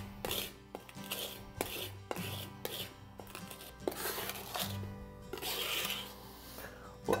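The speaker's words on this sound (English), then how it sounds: "The sharp edges of the coarse salt crystals are going to help quickly shred this down into a nice smooth paste using the flat edge of my knife" A knife's flat edge scraping and pressing coarse salt into a paste on a cutting board for tomato vinaigrette, heard as a series of close, rhythmic rasping strokes and soft taps at an uneven pace.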